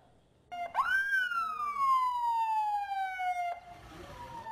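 An ambulance siren rises sharply, then sweeps in one long slowly falling wail near a hospital emergency entrance, loud and clear before cutting off abruptly.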